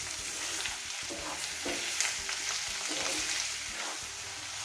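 About a quarter kilo of chicken sizzles in a pan for Andhra-style chicken fry, a dense continuous frying hiss with repeated stirring scrapes of a spoon close by.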